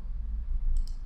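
Mouse clicks while working in an Excel spreadsheet, two quick, close clicks in succession over faint low hum.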